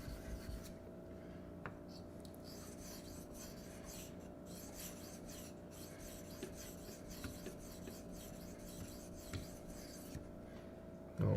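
A Venev sharpening stone is scrubbed clean with a steady, faint rasping rub that runs continuously and evenly throughout, quiet and close, with no talking.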